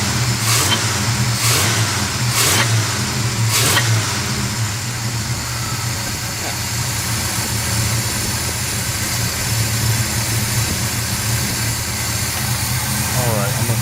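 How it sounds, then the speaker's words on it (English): Running engine of a Chevrolet dually truck fitted with a Q-jet carburetor, idling with the AC on while the alternator whines, a steady close drone with a few sharp clicks at the start. "I think my alternator's singing a little bit."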